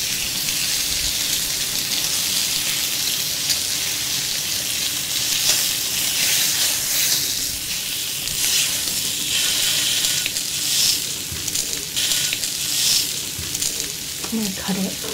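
Dry-brined pork belly sizzles steadily in a pan at a Korean barbecue, with a close, continuous fry crackle. The sugar is catching and browning, and quiet handling noises sit under the sizzle.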